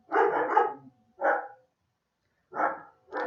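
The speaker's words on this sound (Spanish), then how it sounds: "Ay, mis perros." Several dog barks in separate bursts, a long one first and then three shorter ones after a pause, fairly close and clear, with no talk over them.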